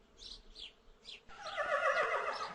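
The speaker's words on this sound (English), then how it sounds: "This is a horse." A horse whinnies in a high, quavering neigh, with a few short calls and then a longer, louder, breathier whinny, near and alone.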